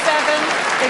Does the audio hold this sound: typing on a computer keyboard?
no